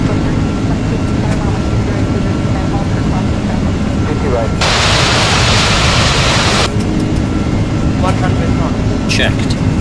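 Airbus A330 jet engines spooling to takeoff thrust in a flight simulator departure from Milan Malpensa, a loud continuous roar with a brief burst of broadband hiss midway and a few faint clicks near the end.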